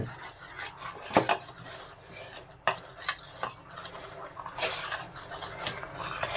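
Chicken being mixed by hand or spoon with chicken powder and ground red chilli in a bowl: soft rubbing, squelching and occasional clinks against the bowl, close and moderately quiet, continuous throughout.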